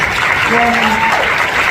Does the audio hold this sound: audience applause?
yes